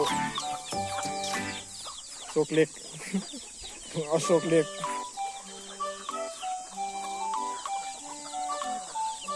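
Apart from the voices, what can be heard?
chickens clucking while being fed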